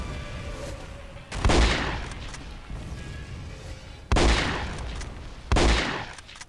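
Cannons fire in the shooter game Contract J.A.C.K., three heavy booms landing a second or more apart, each with a sharp attack and a decaying rumble over quieter game ambience.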